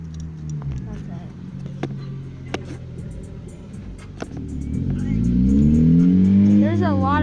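Motorcycles passing outside, engines droning and revving with rising pitch as they sweep by, growing louder and closer toward the end, with sharp clicks and knocks nearby.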